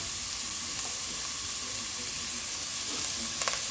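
Onion sautéing in a hot pan gives a steady, dense sizzle and crackle throughout, with a few faint clinks near the end and no talking.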